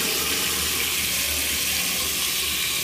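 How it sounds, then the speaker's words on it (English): Water gushes from a tap at strong pressure in an apartment, a loud, steady, close rushing hiss that continues without a break and with no voices. "the water it has a lot of pressure which is excellent"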